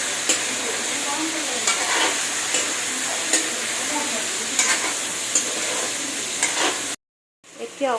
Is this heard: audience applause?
no